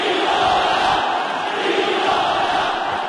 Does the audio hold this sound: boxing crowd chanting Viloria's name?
yes